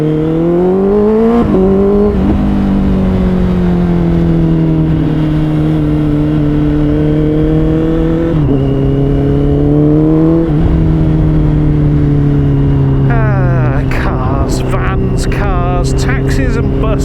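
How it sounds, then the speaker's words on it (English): Honda CBR 650R motorcycle with a Scorpion exhaust, heard from the rider's seat as the engine revs up through several gear changes with rising and falling pitch, loud and close, with steady wind noise throughout. "Oh, that exhaust does sound nice."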